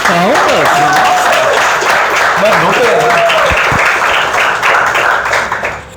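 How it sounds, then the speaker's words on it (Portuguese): A class group applauds during a Sunday religious lesson, loud continuous clapping with voices talking and calling out over it, tapering slightly at the end. "Palmas."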